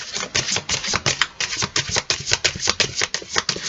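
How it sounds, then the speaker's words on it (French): Tarot cards being shuffled and drawn by hand, a close, rapid run of crisp riffling flicks and slaps in an uneven rhythm, with no voices. "Allez, je tire une carte supplémentaire."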